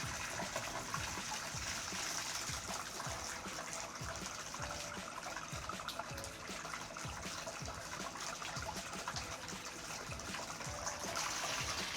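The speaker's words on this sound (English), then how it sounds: "I'm gonna run the water into a glass that I have a thermometer stuck in." Tap water runs steadily into a glass holding a thermometer, a soft, continuous trickling splash that stays even for the whole stretch with no voices.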